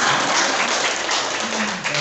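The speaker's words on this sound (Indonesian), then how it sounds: "tepuk tangan untuk kita semua" Audience applause at the close of a classroom-style game during an education workshop, a dense, steady wash of clapping with a faint voice briefly audible beneath it.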